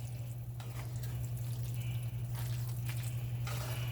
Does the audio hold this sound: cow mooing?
no